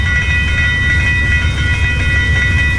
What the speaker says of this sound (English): here comes two more trains coming over it